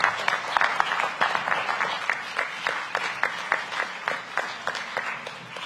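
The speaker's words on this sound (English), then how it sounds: "Let's give Fred a round of applause." Applause at a dinner event after an interview: a fairly steady, rhythmic run of individual claps at moderate loudness, sounding like a modest crowd, with no talk over it.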